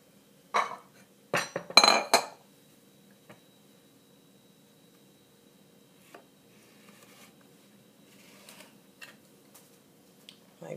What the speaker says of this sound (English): And I am going to cut these all the way down in half.